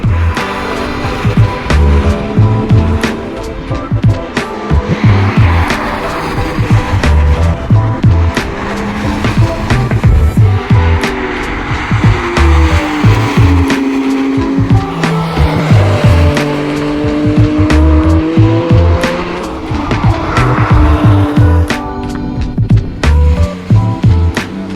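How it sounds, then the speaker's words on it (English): Cars race past at the Nürburgring, engines roaring in loud repeated pass-bys with rising and falling pitch and occasional tire squeal, heard up close from the trackside. "you get a fantastic view of the cars coming through that section"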